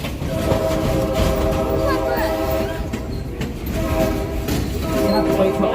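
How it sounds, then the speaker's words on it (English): A loud train horn sounds on the Stone Mountain, Georgia train ride, sustained over the steady rumble and rattle of the moving railcars throughout, with faint voices underneath. "You have to wait till after the train horn"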